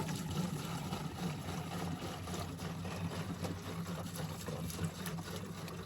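Water pouring steadily from a hose onto newly planted wedding bouquet trees, a continuous moderate rush with a faint background engine-like hum and no talking.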